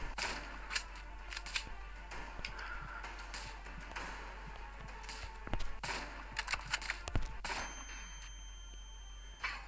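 Enemy gunshots in the mobile game Mountain Sniper Shooter crack out as scattered sharp reports, a few louder bursts clustered in the second half over a steady low hum, no talk.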